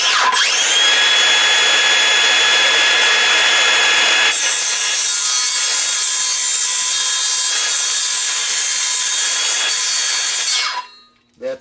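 A cutting tool saws through wood for solar panel legs, a loud, steady rasping grind with a shift in tone midway, ending abruptly near the close, with no speech.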